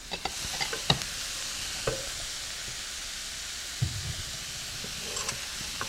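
Soft, steady sizzling of jambalaya frying in a pan, with occasional light clinks and stirring scrapes, fairly quiet and close.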